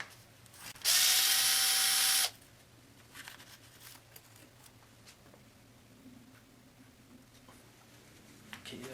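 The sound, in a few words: removing bolts with a ratchet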